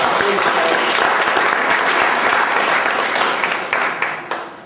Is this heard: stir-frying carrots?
no